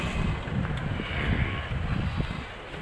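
Strong wind buffets the microphone outdoors, a continuous loud rushing roar with low gusty rumbling throughout.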